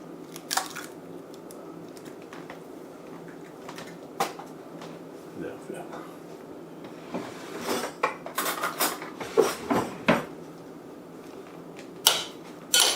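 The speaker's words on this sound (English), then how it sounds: "we're going to crack an egg" An egg cracked into a bowl of pork and chive wonton filling, with scattered clinks and taps of shell against the bowl and utensils, close and fairly quiet, while a voice talks in the background.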